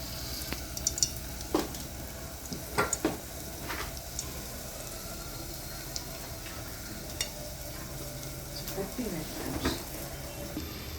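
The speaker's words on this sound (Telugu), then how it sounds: "గిన్నె పెట్టుకుని ఆయిల్ వేసుకుని" Oil heating in a pot for a goat head curry gives a low, steady sizzle, with a few scattered utensil knocks over a constant hiss.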